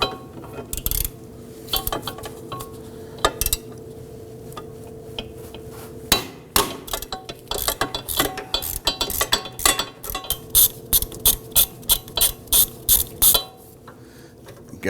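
A socket ratchet on an extension working a 14mm brake caliper bolt on a 2005-2009 Subaru Legacy, with sharp metallic clicks and clunks, irregular at first and then settling into a quicker run of ratcheting strokes close by.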